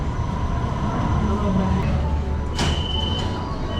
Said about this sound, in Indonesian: Oke, MRT-nya sudah sampai.